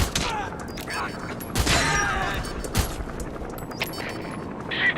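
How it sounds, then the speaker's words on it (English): Gunfire in the stealth action game Metal Gear Solid V: The Phantom Pain, with a few sharp shots and bursts standing out over background game sound and voices. "Taking fire!"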